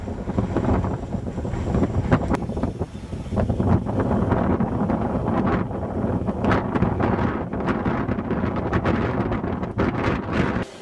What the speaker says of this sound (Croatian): vrlo jaki vjetar